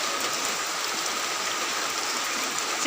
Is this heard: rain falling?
yes